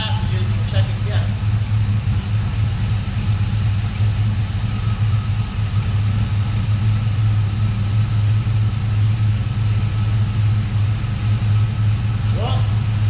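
A car engine runs at a steady idle while the transmission is shifted through its gears, giving a loud, constant low rumble with no clear revving throughout.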